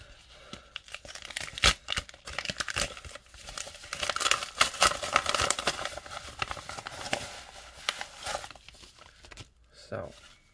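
Trading cards are unwrapped from a paper towel with close crinkling and tearing rustles that come in uneven bursts, and a voice speaks quietly beneath them.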